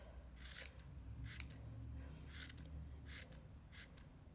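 Scissors snipping pom-pom trim on a brooch pin, five crisp quiet cuts spaced about a second apart, close up with no talking.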